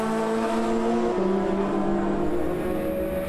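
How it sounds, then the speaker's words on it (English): Race cars at Zolder circuit in a Supercar Challenge round, among them a BMW, roar loudly past with engine notes rising and shifting as they overtake, a dense continuous drone close by. "Behind Erik van der Munkhoff, being passed around the outside and inside by Mark van der Aar in the pink and white BMW"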